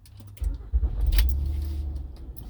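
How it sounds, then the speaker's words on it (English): A 2008-2014 Honda Pilot engine starts with a short rough surge and then settles into a steady low idle rumble, heard up close with small mechanical clicks and no talking. "And start the car for the temperature to reach 300 RPM"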